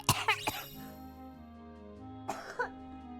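A few harsh coughs at the start, then a quiet hum, followed by another short burst of two or three coughs close to the microphone.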